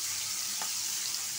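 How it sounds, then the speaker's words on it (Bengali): Rohu fish sizzles in hot oil in a pan, a steady close frying hiss with a brief stir or crackle midway. "মাছটা ভাজা হোক।"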